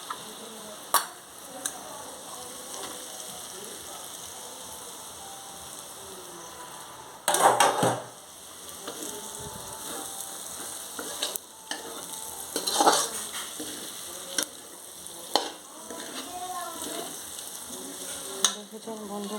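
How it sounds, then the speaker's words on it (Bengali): Prawns sizzle and fry in a pan with meat, onion and capsicum in ghee mixed with white oil, a steady close hiss broken by occasional stirring scrapes and clinks. "এখন ক্যাপসিকামগুলো ভাজা হয়ে এসছে, এখন আমি এই চিংড়ি মাছগুলো দিয়ে দেবো।"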